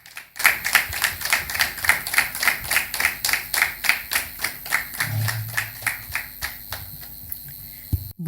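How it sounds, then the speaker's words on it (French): Clapping welcomes a speaker at a talk on nursing sciences: a single clear, regular train of claps, close and evenly paced, fading in its final seconds over a low electrical hum. "Aidez-moi à recevoir, avec des applaudissements bien nourris, Dr Euseb Akossi."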